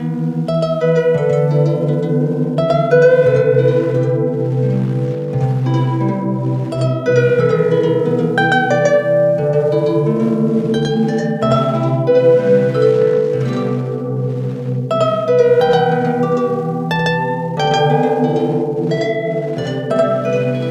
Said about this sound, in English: which causes these really cool lo-fi, artifacts, disintegration loop sounds